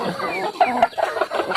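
Chickens and a rooster cluck repeatedly in a farmyard where ducks are also kept, a steady run of short, fairly close calls with no talk.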